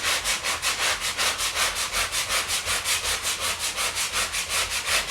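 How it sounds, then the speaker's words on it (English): A small Ryobi power sander grinding Bondo filler on a rotted window sill. It makes a fast, even, rasping scrub that pulses several times a second, steady and close, with no talking. "I just used my little Ryobi sander."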